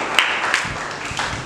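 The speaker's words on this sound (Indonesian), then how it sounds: "Kita tepuk tangan buat Indonesia." A church congregation claps together for Indonesia, a brief burst of dense, even applause filling the space.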